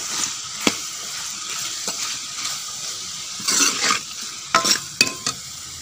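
A spoon stirs turmeric into ridge gourd and chana dal frying in a pan, with a soft sizzle underneath and a few scraping clinks of metal on the pan, close and fairly quiet.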